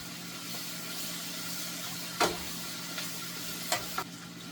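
Bacon frying in melted butter in a pan gives a soft, steady sizzle with a few sharp pops and crackles scattered through it, fairly quiet and close.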